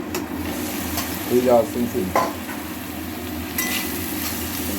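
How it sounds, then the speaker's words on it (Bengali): Pointed gourd peels frying in a pan give a close, continuous sizzle with a few stirring scrapes and clatters of a utensil against the pan, and no one speaking. "এখন এই খোসাটা খুব ভালো করে ভাজা হয়ে গেছে"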